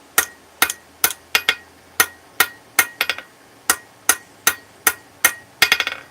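Hammer blows straightening a metal piece, roughly a dozen sharp ringing strikes at a steady, unhurried pace, some landing as quick doubles or bouncing triples, close and loud with no talking.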